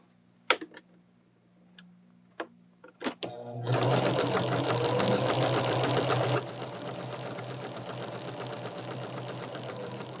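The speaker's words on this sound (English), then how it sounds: "we're sewing on either side of that line, 1/4 inch or a little less than 1/4 inch" A sewing machine stitches half-square triangle units for a ribbon quilt block along a quarter-inch seam. A few sharp clicks come first, then a loud, steady motor run lasts several seconds and eases slightly toward the end.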